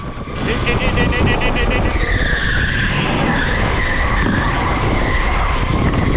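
Go-karts race at close range on an indoor track at TeamSport Liverpool, with a steady engine drone, a rising whine and squealing tyres. The noise is loud and continuous, and a voice talks over it.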